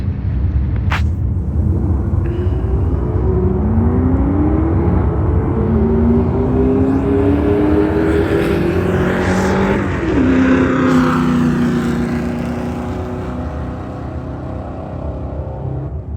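A bracket racing car makes a practice run at a drag strip, its engine roaring loud and continuous as it launches and revs through the gears with rising pitch, then fades slightly as it pulls away.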